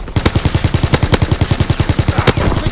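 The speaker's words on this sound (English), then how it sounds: "Fighter pilot inbound, strafing the target." A fighter plane's strafing run in Call of Duty WW2 pounds out a rapid, evenly spaced stream of loud, close gunfire bursts, roughly ten rounds a second with a few sharper cracks mixed in.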